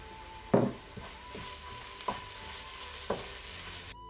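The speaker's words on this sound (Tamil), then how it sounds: "மிளகாத்தூளும் தனியாத்தூளும் மிக்ஸ் பண்ணி வச்சுருக்கிறத ஆட் பண்ணி நல்லா வதக்கிக்கணும்" Chili powder and coriander powder sizzle steadily in a pan for hotel-style mutton kurma, while a spoon stirs through them and knocks against the pan about four times, close and fairly soft.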